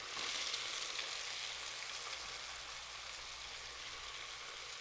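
Onion fries in oil in a pot for soup, giving a steady, moderate hiss and crackle that begins strongly and settles into an even sizzle, with no talking.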